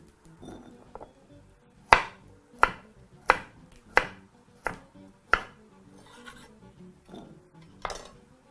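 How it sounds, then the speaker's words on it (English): A knife strikes a cutting board in sharp, separate chops as carrots are cut into half-inch batonnets, about eight crisp knocks spaced a little under a second apart, close up with no talking. "So I'm going to chop the carrots into some 1/2-inch thick"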